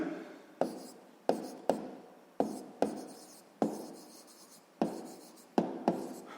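A pen writes on paper while math homework is worked out, heard as a quiet close series of sharp taps and short scratchy strokes at an uneven rhythm, with no voices.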